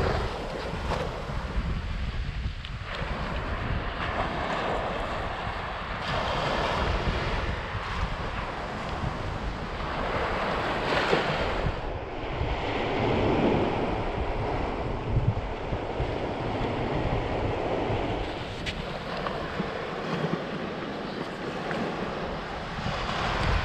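Surf breaking on Pensacola Beach, Florida, a continuous near roar of waves washing ashore mixed with wind buffeting the microphone, swelling and easing over about twenty seconds with no voices.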